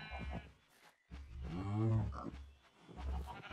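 Cows mooing in the modded Minecraft pack GT New Horizons, a single long, low moo rising and falling in the middle, with softer animal sounds before and after and no talking.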